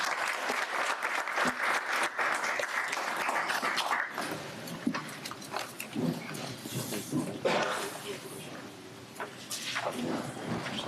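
Audience at a city commission meeting applauding years-of-service recipients, a steady wash of clapping that thins out in places, with faint scattered voices underneath.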